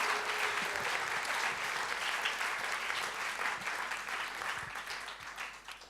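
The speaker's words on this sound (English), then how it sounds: "Give her one more big round of applause." An audience applauds a stage performer at an evening show, a steady crowd clapping with distinct individual claps audible, somewhat distant and moderately quiet, tapering toward the end.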